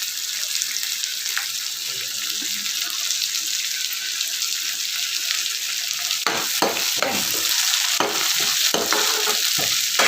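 Green tomatoes fry with softened onions in a pan, giving a steady close hiss of sizzling oil. In the later seconds, several sharp stirring scrapes and knocks break through.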